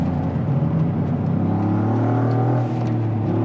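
Toyota GR Yaris accelerating on a racetrack, a loud, steady engine drone heard from inside the car that rises gradually in pitch as throttle is fed in smoothly.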